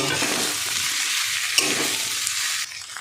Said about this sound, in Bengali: এবার আমি এই যে কুচিয়ে রাখা আলুগুলো দিয়ে দেবো, সিদ্ধ করা আলু দিয়ে মিশিয়ে দেব।